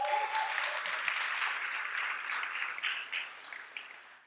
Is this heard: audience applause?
yes